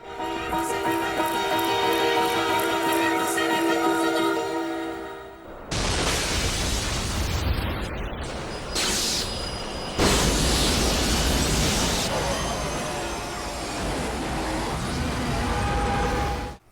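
A train-scene explosion from the 2001 anime Cowboy Bebop: The Movie, where a tonal musical passage gives way to a loud, sustained roaring blast with rumbling debris that runs on for several seconds.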